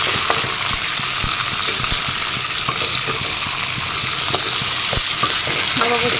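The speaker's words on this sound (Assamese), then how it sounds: "মাছৰ মুখখিনি দি দিছোঁ তৰকাৰী কৰি লৰাই দিওঁ" Fish curry with jute leaves fries in a pan, a constant busy sizzle with scraping, clattering stirs over it, close up and loud, with no talk.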